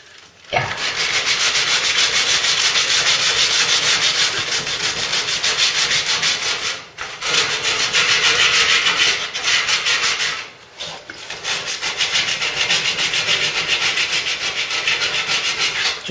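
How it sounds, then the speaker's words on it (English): Steady rubbing and scraping of hand sanding as old factory paint is worked off a new old stock Ford Cortina Mk3 body panel, continuous and close with two brief pauses. "Just taking the Ford paint off."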